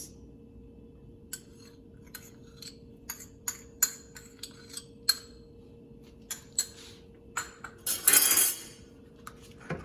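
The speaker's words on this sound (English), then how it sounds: "Going to give it a nice stir." Pearl millet vegetable soup with coconut cream and vegetables being stirred in a pot, heard as a series of light metallic clinks and taps of a spoon against the vessel, with a brief louder scrape near the end and no talking.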